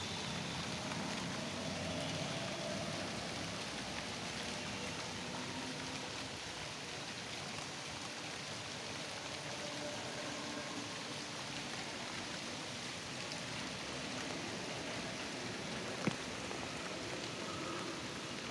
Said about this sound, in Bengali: খুবই আস্তে আস্তে বৃষ্টি হচ্ছে